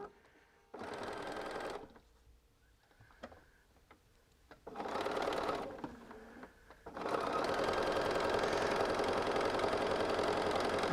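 A sewing machine stitches quilt block squares in three bursts, first short, then longer, then a long steady run to the end, with a humming motor and quiet pauses between bursts.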